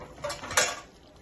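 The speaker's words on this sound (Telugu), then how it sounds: "మూత పెడదాం" A lid set onto a cooking pot of bottle gourd dal, with two short metallic clinks, the second a little louder, close by, followed by a brief fading ring.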